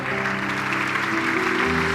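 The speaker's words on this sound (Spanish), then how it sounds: "Dale un aplauso." Steady applause from a church congregation, a dense continuous patter with a low hum underneath, sustained throughout.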